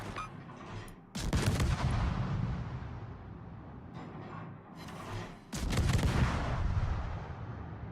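Double-turret naval guns on a World of Warships warship fire two loud, thumping salvos a few seconds apart, each a sharp boom with a long rolling decay, and no talking over them.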